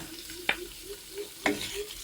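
Sliced pork frying in a little oil in a pan, a quiet steady sizzle with two sharper stirring scrapes about a second apart, close and alone.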